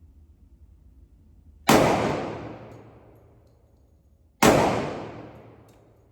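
Two loud, sharp pistol shots from a Glock 30S at a shooting range, each a sudden crack with a long ringing decay, spaced about three seconds apart over low background rumble.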